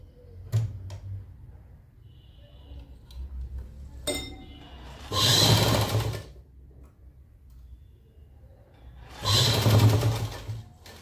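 Sewing machine stitching a neckline design on fabric, two bursts of rapid mechanical whirring about four seconds apart, with scattered small clicks and handling noises between them.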